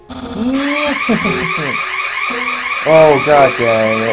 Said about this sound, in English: That was the alarm again, so yeah, don't mind it. It always goes off every now and then.